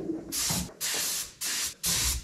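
A spray gun lays paint onto a hot rod roll bar in four close, loud bursts of hiss, each lasting about half a second with brief pauses between.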